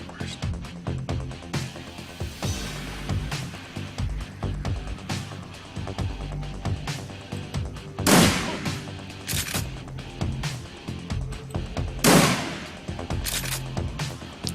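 Gunshots ring out in the Shadowrun Returns video game, with sharp repeated reports and a couple of louder, bright bursts standing out over a background of game music.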